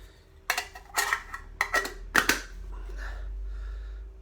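A brass late Victorian chamber stick with its lid removed is handled: several sharp metallic clinks and knocks in quick succession, close and fairly quiet, then a low steady background hum.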